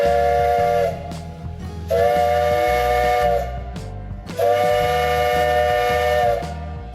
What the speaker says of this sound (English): They shoveled in the coal, let off a little steam, and just like that, we were rolling.